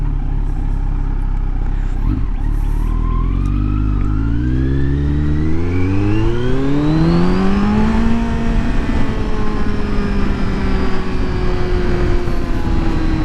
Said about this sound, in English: I don't know if you guys can hear the bike.